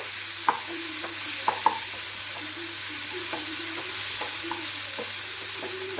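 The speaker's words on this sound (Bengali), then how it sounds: "যতক্ষণ না মাশরুমের কালারটা চেঞ্জ হচ্ছে ততক্ষণ কিন্তু ভালো করে তেলের সাথে মিক্সড করে নেব" Oyster mushrooms stir-fried in oil over a high gas flame, a steady loud sizzle running throughout with a spatula repeatedly scraping and clinking against the pan in an irregular rhythm.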